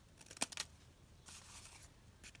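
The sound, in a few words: cutting paper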